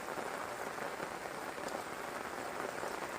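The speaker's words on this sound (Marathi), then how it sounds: "पाऊस आला आणि कोंबडी पण गारटली," Steady rain falls on a Konkan rice farm, a dense, even hiss of drops hitting surfaces that stays at a constant level throughout, with no voices.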